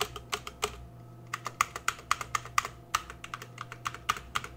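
Keys clack in quick, uneven bursts on a budget METOO ZERO mechanical keyboard with KO Red switches. The typing sounds close and crisp, with short pauses between runs, over a faint low hum.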